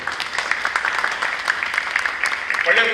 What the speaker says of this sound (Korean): 좀 일어나서 박수 한번 보내주시죠.